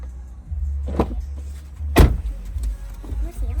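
The rear door of a Tesla Model 3 or Model Y opens with a couple of close mechanical clunks over a low hum, while someone talks softly nearby.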